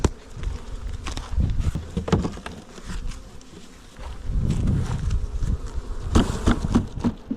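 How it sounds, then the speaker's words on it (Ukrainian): Honeybees from a strong colony swarm loudly around an open hive being readied for winter, a dense, steady buzzing drone that swells and fades close to the microphone throughout. "Ось дивіться, скільки бджоли."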